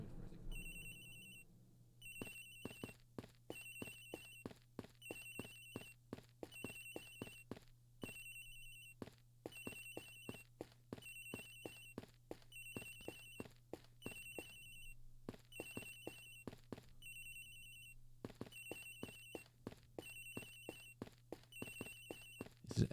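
Agent Hicks's phone in the Ace Attorney Investigations video game rings over and over in a steady electronic trill, a long run of evenly spaced bursts with short pauses, sitting over a constant low hum and no talk.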